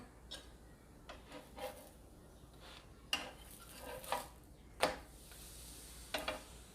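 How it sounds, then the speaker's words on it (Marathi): Paratha roasting in oil on a flat pan while being flipped, with a few scattered clinks and scrapes of a spatula against the pan over a faint background. "आणि वरती आता थोडंसं तेल घालते आणि पुन्हा पलटून घेऊयात आपण पराठा"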